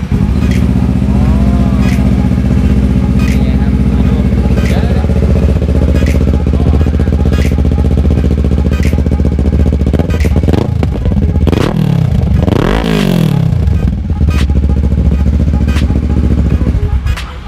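A Kawasaki ER6n motorcycle engine runs loud and close, holding a steady, throbbing idle with a few sharp revs near the end.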